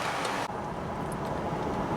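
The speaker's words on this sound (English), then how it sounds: "So with the mufflers on, my car is so quiet I can hear the road noise over the engine." A car fitted with mufflers cruises along quietly, a steady low rumble of tire and road noise over a soft, barely noticeable engine.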